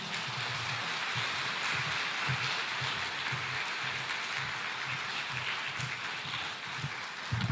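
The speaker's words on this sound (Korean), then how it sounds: "힘찬 박수로 환영하시겠습니다." A church congregation bursts into sustained applause to welcome a visiting pastor to the pulpit, a dense, steady roar of many hands clapping for the full length without voices over it.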